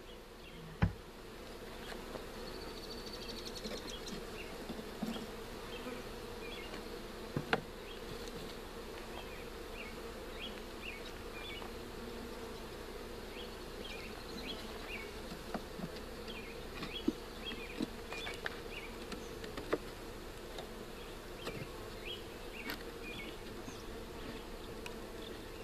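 Honey bees from package colonies buzz steadily around beehives outdoors, a dense, continuous drone of many insects with individual bees passing close now and then.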